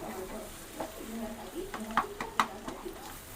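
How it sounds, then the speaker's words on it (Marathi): Masala spices frying in hot oil in a pan, a faint sizzle with stirring scrapes and a few light clinks against the pan, close by, while someone talks. "आपण आता मसाला सगळा टाकतोय तेलामध्ये"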